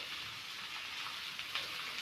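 Onions sizzling in coconut oil while being slowly stirred for a coconut chutney, a steady soft crackling hiss with small stirring clicks, close and fairly quiet.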